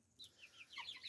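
Barnvelder chickens clucking in a poultry yard, a quick run of short soft clucks and chirpy notes over about a second, faint and somewhat distant.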